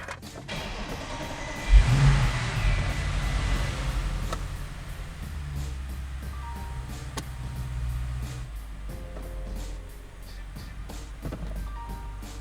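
Audi with a DL501 dual-clutch transmission started and left idling, the engine catching with a brief rev then settling into a steady low hum, with faint clicks and shifts as the selector is moved through the gear positions.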